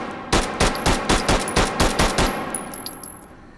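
Rapid gunfire in the video game Hot Dogs, Horseshoes and Hand Grenades, about ten loud, evenly spaced shots at small targets, followed by faint tinkling shell casings as the firing stops.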